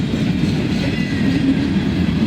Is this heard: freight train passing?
yes